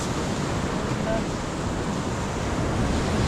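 Surf washes steadily against a rocky shore where swell makes for rough fishing conditions, a constant broadband roar with wind buffeting the microphone throughout.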